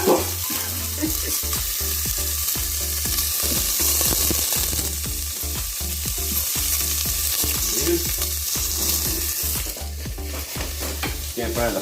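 Rotisserie chicken seasoning with onion powder and pepper stirred and fried in a pan with a spoon, a loud steady sizzle with rhythmic scraping strokes repeating about twice a second.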